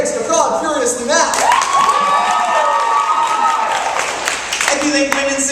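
An audience claps, cheers and whoops for a contestant at a live competition event, a loud sustained crowd roar with shrill shouts and some tonal vocal whoops rising above it.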